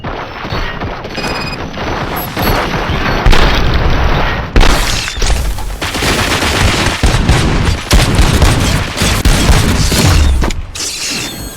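Loud, dense gunfire and heavy explosions fill a battle in the video game Robocop Rogue City, with rapid bursts, booms and crashes overlapping almost without pause.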